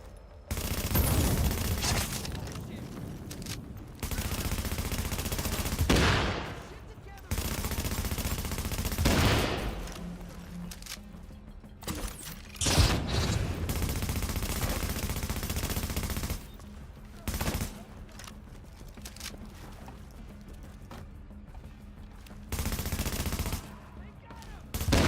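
Rapid automatic gunfire from a strafing attack in an online shooter video game, long loud sustained bursts broken by brief pauses, with a voice talking faintly underneath.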